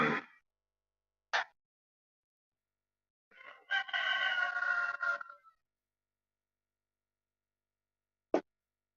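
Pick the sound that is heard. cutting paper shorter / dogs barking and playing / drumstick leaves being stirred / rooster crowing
rooster crowing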